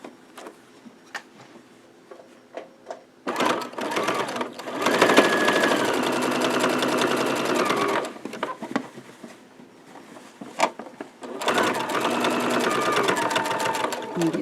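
A sewing machine stitches a market tote in two loud, close, continuous runs, separated by a pause filled with small handling clicks and a voice talking.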